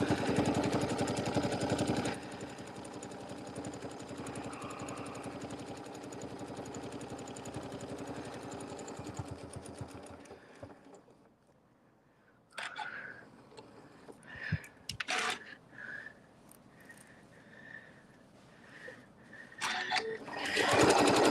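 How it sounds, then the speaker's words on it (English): A sewing machine edge stitches around a fabric table topper, running in a long, fast steady whir for about ten seconds, then pausing and resuming in several short, separate bursts. "I'm going to start right here on the edge and edge stitch this all the way around."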